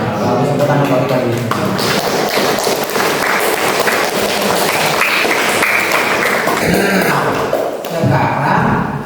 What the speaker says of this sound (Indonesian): tepuk tangan bagi tadi.